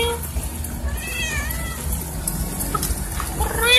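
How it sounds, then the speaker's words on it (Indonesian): Kitten meows, several rising and falling cries near the middle and end, heard over steady background noise at a house. "Ada anak kucing."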